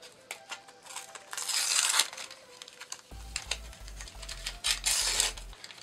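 A foil pack of Topps UEFA Champions League 2016-17 football stickers is torn and crinkled open close up, with rustling bursts, sharp rips and soft handling clicks over a few seconds.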